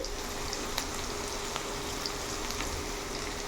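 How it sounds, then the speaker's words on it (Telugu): Onions, green chillies and curry leaves fry in hot oil while bitter gourd spice powder is being made. The sizzle is quiet, steady and crackling, with scattered small pops and no voices. "2 రెబ్బల కరివేపాకు, వేసి ఫ్రై చేసుకోవాలి."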